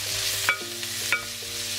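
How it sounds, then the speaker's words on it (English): Vegetables for a curry sizzle steadily in a pan over a medium flame, a constant frying hiss broken by a couple of soft stirring scrapes. "I'm going to dump all that in together and let that cook and caramelise"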